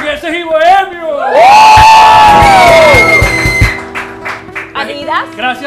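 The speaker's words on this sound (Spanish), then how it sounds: "Aplausos." An audience at a live streamed show breaks into loud cheering and whoops with applause, a burst of crowd noise that swells, holds, then fades as voices carry on.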